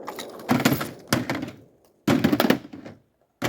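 The bolt of an AR-15 rifle with a broken firing pin and a missing gas ring slams and locks back on an empty magazine. Several loud, close metallic clacks and rattles come in bursts, separated by brief silences.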